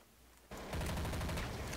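An MP5-style submachine gun in Counter-Strike: Source opens up in a sudden loud rapid burst of fire that continues steadily to the end after a quieter moment.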